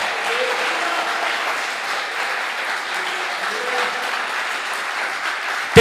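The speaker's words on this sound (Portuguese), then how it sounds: "Aplausos ao Senhor." Congregation in church applauding, a continuous even roar of many hands clapping sustained for several seconds with faint voices beneath.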